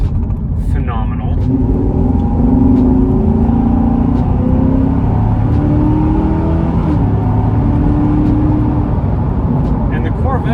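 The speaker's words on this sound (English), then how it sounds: "the Corvettes in particular actually sound really nice too. Like, they got a great exhaust" A Chevrolet Corvette C7 V8 engine and exhaust rumble and rev under load in a continuous, loud drone with rising and falling pitch, heard from close by with some voice mixed in.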